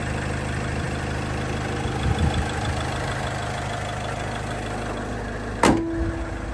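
Quiet, even idle of a 2010 Renault Trafic's 2.0-litre 115 hp diesel, a steady low hum broken only by a brief bump near the start and a sharp click toward the end.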